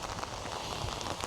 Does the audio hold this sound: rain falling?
yes